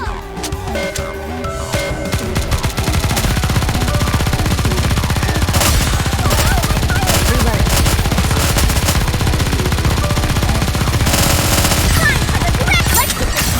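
Sustained rapid automatic gunfire from NIKKE battle combat, loud and continuous machine-gun bursts filling the whole stretch, with occasional character voice lines over the shooting.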